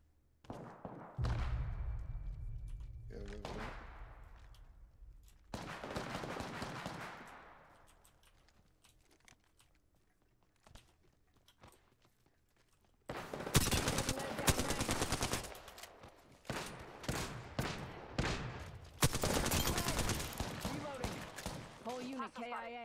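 Gunfire rings out in the Apex Legends video game, with rapid bursts of automatic shots in the second half after quieter stretches, and a player talks intermittently.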